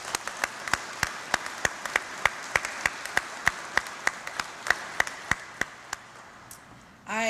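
Applause for supporters of a Newton County, Georgia apprenticeship program: sparse, evenly spaced sharp claps that stop just before the end, heard almost alone.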